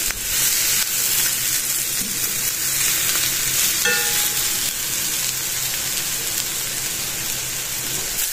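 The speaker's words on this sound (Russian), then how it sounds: "Увеличил газ, чтобы лук, морковь и грибы именно обжарить, а не потушить." Onion, carrot and mushrooms frying over high gas heat, giving a dense, even close-up sizzle like rain with a few light stirring scrapes and a brief clink partway through, and no one speaking.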